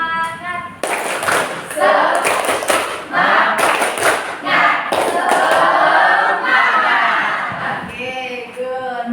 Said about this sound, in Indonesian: Ice breakingnya pakai tepuk semangat aja.